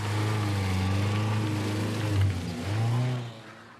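A car pulls away at night with its engine revving: a steady low motor drone swells twice in pitch as it accelerates, then fades as it draws off, with no voices.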